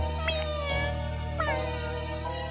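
A kitten meows a couple of times, drawn-out tonal cries over a steady background hum, with no talking.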